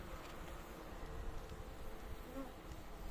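Honey bees swarming at a split hive defending against giant hornets, a dense continuous buzzing drone filling the air close by, steady and unbroken, with no talk.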